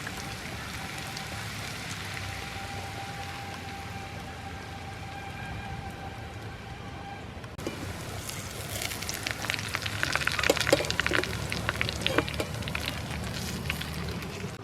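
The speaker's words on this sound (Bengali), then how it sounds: "আমি কিন্তু একদমই অল্প অল্প করে পোলাওটা ভেজে নিচ্ছি" Pulao rice frying lightly in a small amount of oil, a steady close crackling sizzle that grows louder and busier in the second half with scattered pops and scraping stirs.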